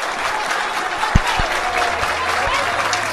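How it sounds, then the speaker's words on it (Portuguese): A football crowd applauding at an under-20 cup final trophy ceremony, a loud, continuous roar of clapping and cheering with a few thumps, and a commentator's voice running over it. "os aplausos da torcida presente aqui"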